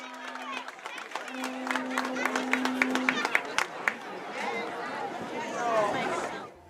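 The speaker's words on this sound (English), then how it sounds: "a big round of applause for your senior cross-country members" Crowd at a high school football game applauding senior cross-country members, scattered claps and chatter building into steady clapping and cheering, with a sustained tone at the start.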